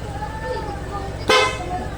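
Over a steady idling engine hum of a Honda PCX160 scooter, a single short, loud blast from an aftermarket loud horn sounds near the end, close by and abrupt.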